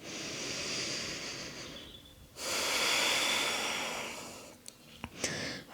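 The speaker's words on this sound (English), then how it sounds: "Maybe take a few deep releasing breaths." Deep slow breathing during a yoga session, two long airy breaths heard close and clear, the second louder, then a few short sniffs and shifting sounds, with no talking.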